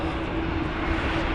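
A steady, loud roar of aircraft engines from an airplane taking off in Islamabad fills the scene, a broad continuous rumble without pauses or voices.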